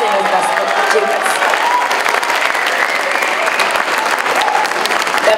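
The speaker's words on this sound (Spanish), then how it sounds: "Fuerte los aplausos para nuestros jóvenes y nuestras chicas." An audience at an event against violence applauds young people and students, a loud, dense wash of clapping that holds steady throughout without any speech.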